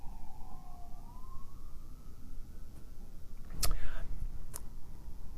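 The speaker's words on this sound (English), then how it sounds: "that is an ambulance going by" An ambulance siren passes in the distance, its faint rising and falling wail sweeping under steady background noise, with a couple of sharp clicks near the end.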